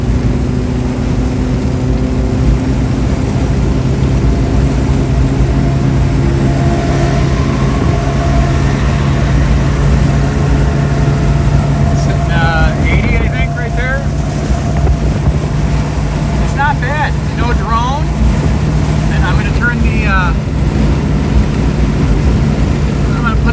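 A 25-year-old Subaru Sambar kei truck drives at around 90 km/h with the windows open, giving a loud, constant engine drone mixed with heavy wind rush, with faint chirping sounds in the later part.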